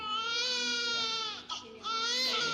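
An infant wails loudly and close in two long sustained cries, separated by a short gasping break, with no other sounds.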